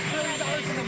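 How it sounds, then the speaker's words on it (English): A running helicopter near a press interview, its engine whine and rotor roar steady and loud throughout the brief moment, with speech faintly mixed in. "stop giving interviews in front of a running helicopter"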